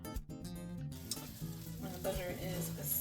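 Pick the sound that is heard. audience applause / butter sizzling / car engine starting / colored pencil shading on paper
butter sizzling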